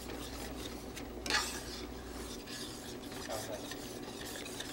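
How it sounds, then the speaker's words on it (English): A spoon stirs milk into brown gravy in a pan, soft scraping and swishing strokes over a faint sizzle, close by with a light clink of utensil against metal. "And stir this around real good."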